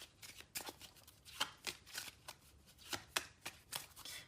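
Tarot cards shuffled in a quiet room, a rapid series of crisp riffling and slapping bursts recurring every half second or so, close and moderately loud with no talking.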